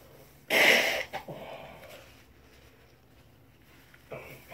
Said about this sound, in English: That'll blow my nose, I'm sorry.